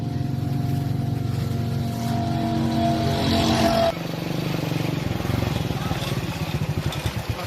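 A motorcycle engine runs nearby with a loud, steady idle hum and a brief rev that drops off sharply, then keeps up a throbbing putter, with some voices faintly underneath.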